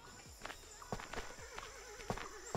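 Neighing and clip-clopping hooves of a horse in the farming game Farmer's Life, several whinnies and a few hoof strikes close by over a steady game background hum, with no talk.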